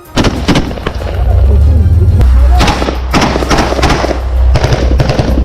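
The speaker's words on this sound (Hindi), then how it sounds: "हमले से बेपरवाह इन सैनिकों ने खुद भी गोलियां चलाई" Gunfire from Israeli soldiers during combat in Gaza, loud close bursts of rapid shots and sharp cracks with a sustained rumble between volleys.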